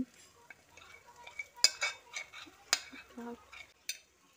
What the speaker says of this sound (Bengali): ডালের পেস্টটা দিয়ে এবার সমস্ত মশলার সঙ্গে ভালো করে এইভাবে মিশিয়ে নিচ্ছি।